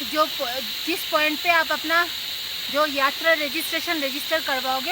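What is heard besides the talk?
crickets chirping loudly in mountain forest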